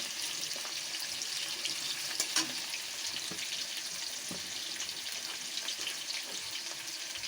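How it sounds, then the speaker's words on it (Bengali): Potatoes fry in hot oil over a high flame, giving a constant bright hiss with scattered small pops and crackles. No voices are heard. "আলুগুলো প্রথমে ভালো করে লাল করে ভেজে নেব।"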